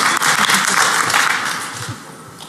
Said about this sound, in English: let's give a round of applause for that song as well